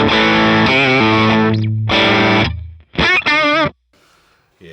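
Electric guitar through a rock distortion amp model on channel 2 of a Line 6 HX Stomp, loud sustained chords and bends with brief pauses, ending in a few short distorted notes.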